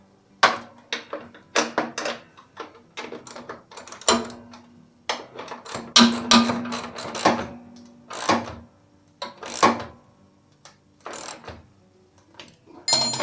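Ratchet wrench tightening nuts and bolts on a homemade carrier mount for a Husqvarna lawn tractor, heard as close, irregular bursts of ratcheting clicks and metallic clanks with short pauses between them.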